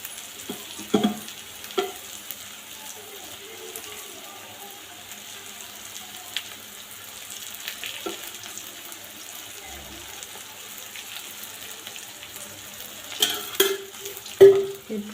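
Kande pohe mixture stirred in a pan: quiet, sporadic spoon scrapes and clicks over a faint background hiss, with a few louder knocks near the end.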